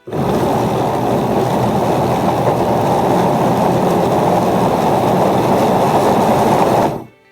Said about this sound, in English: You can hear the machine speeding up a little bit.